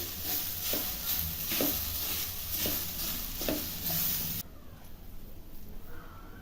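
Jaggery stirred and roasted in a pan for fried modak filling, a steady close sizzle with rhythmic scraping strokes about every second, then a quieter, duller stretch toward the end.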